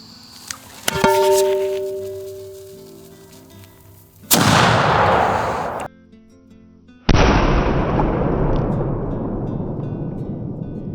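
Two heavy booming reports come from a black-powder gun firing nail shot on a 100-grain powder charge, each followed by a long rolling echo. Sharp clicks and a ringing tone come first.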